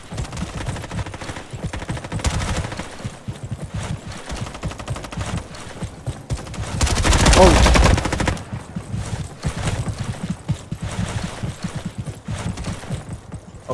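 Gunfire from a gun in the Roblox shooter Frontlines: steady rapid shots run throughout at moderate level, with a louder, denser burst of fire near the middle before the shooting thins out again.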